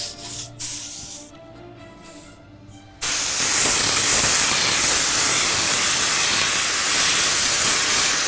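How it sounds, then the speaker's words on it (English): After a few quiet seconds a spray gun bursts into a steady, loud hiss as it sprays headliner glue onto a car's headliner, continuing without pause. "the fluid control knob adjusts how much fluid it sprays out"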